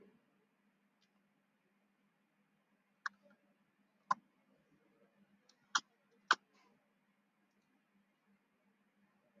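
A computer mouse clicks sparsely while drawing in AutoCAD: a handful of sharp, close, isolated clicks spread over a quiet room with faint hum.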